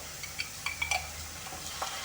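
Soft sizzling and bubbling of vegetables stewing in a pan with tomato sauce, with a few light scrapes and clinks of stirring, close and quiet.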